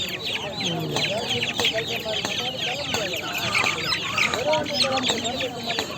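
Several small chickens cluck and chatter continuously at close range, their calls overlapping in a busy, steady flock sound, with a person talking faintly underneath.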